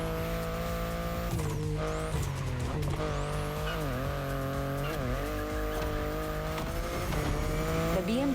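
A BMW i8 drives in the racing game The Crew Motorfest, its engine drone rising and falling in pitch through gear changes with a few tire squeals, loud and continuous throughout.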